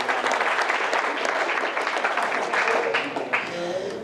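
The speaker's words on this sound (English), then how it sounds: "let's give him a round of applause" A short burst of audience applause at a leadership summit, brisk clapping from a room of people that stays steady, with a voice and whistles or cheers rising near the end.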